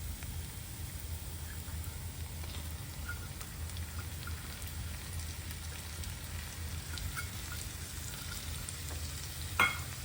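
Tomato paste frying with already fried onions in a pan for pav bhaji, a steady, even sizzle that carries through with no talking and one brief clink near the end.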